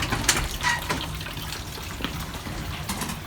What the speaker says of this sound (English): Oh, listen to that rain.